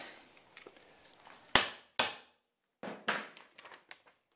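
A hammer knocks against the end of a wooden board during shotgun shell reloading, giving two sharp, loud wooden strikes followed by several softer taps and clatters, with no talking.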